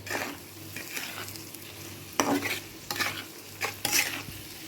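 Pumpkin and shrimp with ground spices being stirred in a hot pan, a steady oil sizzle broken by repeated scraping strokes of a spoon against the pan, close and fairly loud, with no one talking.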